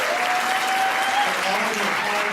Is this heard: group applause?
yes